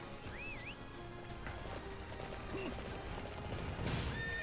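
A horse gallops in the Dynasty Warriors 9 video game, with steady clip-clop hoofbeats and a brief whinny mixed into busy game music and effects at a moderate level.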